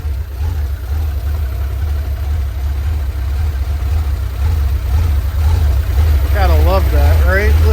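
A 1972 Porsche 911ST tribute car engine idles with a steady low rumble throughout, close by, with a few brief speaking sounds near the end.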